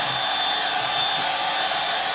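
Steady hot-air blower, a heat gun or hair dryer, heating the leather covering of a Polaroid SX-70 Model 2 camera; a continuous, loud, even broadband whoosh with no pauses and no voices.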